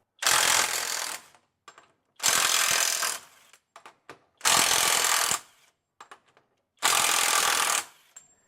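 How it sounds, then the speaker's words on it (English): A Kobalt 24V brushless mid-torque 1/2-inch impact wrench running nuts off, heard in four loud, close hammering bursts of about a second each, separated by short clinks of sockets and nuts. "now we'll take the KOBALT impact wrench, put it on here, and see how quickly we can run those off"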